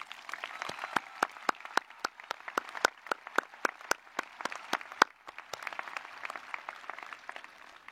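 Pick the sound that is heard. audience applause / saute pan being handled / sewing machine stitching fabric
audience applause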